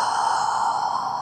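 A person exhales during a yoga breathing exercise for shoulder strengthening, one long steady breathy rush of air, close and fairly loud, with no talking.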